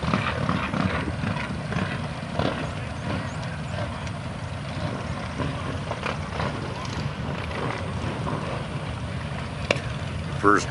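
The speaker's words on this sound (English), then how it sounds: "First rumblings of the motors. Things are about to happen." Engines rumbling at the start of a group motorcycle ride held for a staff sergeant, a dense, steady low roar of several motors idling and revving together outdoors, with faint voices mixed in.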